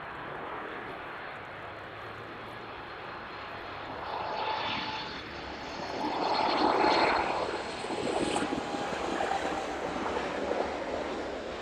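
A Boeing 737 Max arriving from Tenerife lands at East Midlands airport, its jet engine roar building from a steady distant rumble to a louder, closer swell and then holding strong.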